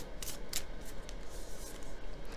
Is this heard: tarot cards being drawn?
yes